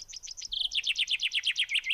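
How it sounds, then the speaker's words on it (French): A common chaffinch sings a bright, rapid series of descending chirping notes ending in a rolling flourish, clear and fairly close against a quiet background. "c'est le pinson."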